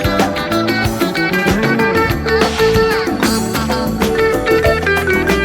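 A city pop song plays steadily, a full band with bright guitar lines over bass and drums, loud and continuous with no voices over it.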